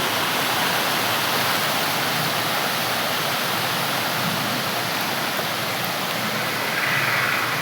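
A waterfall, running low during a dry spell, roars in a steady, dense rush of broadband noise, loud and constant throughout with no pauses or voices.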